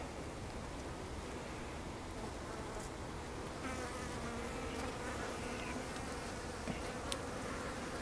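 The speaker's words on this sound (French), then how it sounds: "on a la chance de pouvoir voir quelques abeilles qui volent" A steady, faint drone of honeybees buzzing near an apiary hive in winter fills the air, with individual bees passing close now and then.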